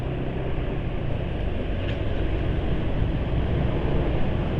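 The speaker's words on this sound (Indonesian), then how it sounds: "suara mesin juga masih agak berisik, tapi hambatannya berkurang" A car engine running noisily just after an oil change with Global Petro America oil, a steady broadband rumble with a constant drone throughout and no talking.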